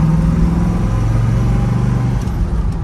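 A 1968 Chevrolet Camaro RS convertible with a Tremec T5 five-speed cruises down the road at about 40 mph, its engine giving a steady, close, continuous rumble with road noise throughout.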